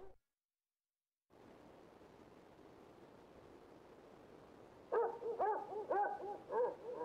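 A dog barking in the video game Persona 3 FES, a run of several quick barks in game audio over a steady low hiss of background ambience, with no talking.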